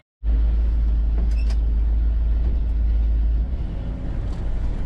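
A 1969 Ford F-350 flatbed truck engine fires up on a cold start and settles into a loud, deep, steady idle rumble close by, with the tone shifting slightly toward the end.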